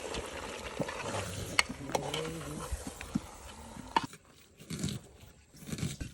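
Food frying and being stirred in a pan at an outdoor cooking setup on Bhasan Char island, giving a quiet close sizzle with irregular clinks and scrapes from the utensil and a few voices nearby.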